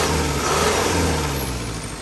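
A Yuchai 4108 diesel engine runs steadily and close by, giving a loud, even, throbbing drone with no breaks.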